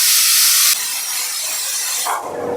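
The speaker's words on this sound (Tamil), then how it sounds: "ஸோ மூணு மிசில் வந்துருச்சு ஆஃப் பண்ணிக்கலாம்" A pressure cooker cooking mutton releases a loud continuous hissing steam whistle that drops in level partway through and then tapers off, heard alone without talk.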